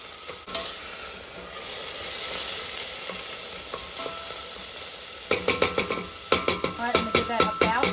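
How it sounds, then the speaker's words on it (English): Spicy roasted red pepper sauce heating in a pan, giving off a steady low sizzle, then a spoon scraping through it in quick rhythmic strokes near the end, close and fairly loud. "Gonna give that a stir, and we're just gonna heat it through, okay?"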